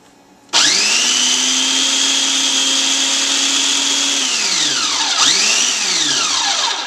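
A blender whirs loudly and steadily as it chops pesto with olive oil, then slows and winds down near the end before briefly spinning back up, close and alone with no talking.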